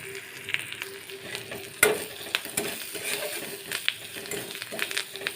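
Onions frying in oil with turmeric and curry leaves for dal, a close, continuous sizzle with scraping stirs and a sharp clink from the utensil.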